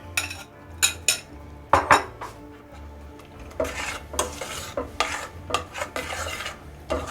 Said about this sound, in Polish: Teraz jeszcze raz pomieszamy i dodajemy galaretkę.